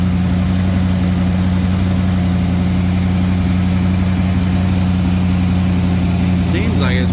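1956 Ford engine idling with the choke off, a loud, steady low rumble with constant vibration throughout, close by, with a brief faint voice near the end.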